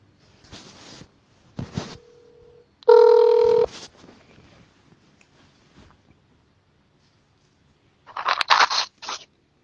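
A telephone rings for an incoming call with a short electronic tone burst among scattered scrapes and handling noises, fairly close, followed by a brief burst of sound near the end.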